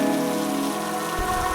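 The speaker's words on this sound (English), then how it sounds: "The sound of rain filled the space between us." Steady rain falling on a surface in a quiet scene, a continuous even hiss with no voices or other sounds over it.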